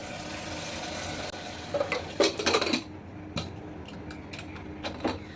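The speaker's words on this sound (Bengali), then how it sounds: "দিয়ে আমি মুখটা বন্ধ করে দিব কুকারে" Metal clinks and clatters as a pressure cooker lid is fitted and locked shut over mutton tehari in a home kitchen, a cluster of sharp knocks followed by a few isolated taps.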